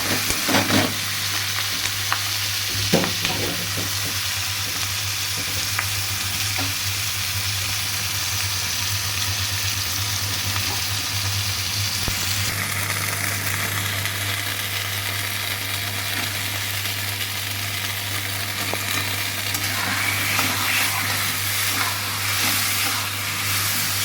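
Taro leaves (kochu shak) tossed into a hot pan where peanuts were just fried, for a Bengali hilsa fish head dish, sizzle and crackle steadily and loudly, with a constant low hum and occasional clatters of stirring throughout.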